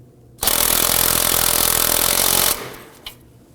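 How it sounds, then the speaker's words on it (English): A power tool driving a 19mm socket to snug a tie rod nut on a 2005-2009 Subaru Legacy, a loud close burst of about two seconds of harsh whirring rattle that cuts off abruptly, followed by a faint clink. "Using a 19mm socket, you want to go ahead and snug this down."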